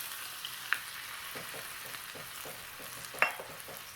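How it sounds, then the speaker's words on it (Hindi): Cumin seeds, asafoetida and ginger fry in smoking-hot ghee with a soft, continuous sizzle, broken by a couple of sharp metallic clinks from a stirring utensil. "मैंने घी को इतना गर्म कर लिया है कि इसमें से थोड़ा सा स्मोक जैसा आ रहा है, तो इसमें मैं ये क्यूमिन सीड्स डालूंगी"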